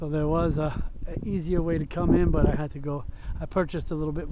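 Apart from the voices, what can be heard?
No distinct noise like a dog, phone or traffic.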